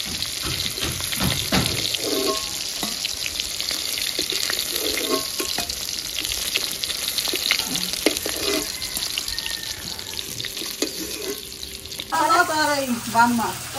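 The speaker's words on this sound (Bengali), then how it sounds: "মাছ ভাজা হয়ে গেছে, এখন মাছগুলো তুলে নেবো।" Fish frying in a pan gives a constant oily sizzle with occasional scrapes and clatter, running loudly the whole time; a brief different sound briefly takes over near the end.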